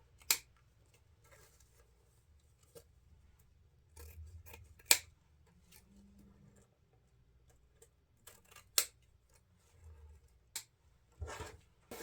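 Scissors make a series of sharp, close snips while angle-trimming ribbon ends on a gingerbread wreath. Soft handling rustles fill the quiet gaps between cuts, and nobody talks.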